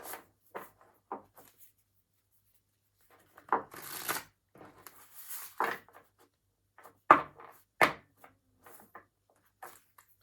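Intermittent bursts of oracle cards being shuffled and riffled, with quiet gaps between clusters of soft papery rustles and taps.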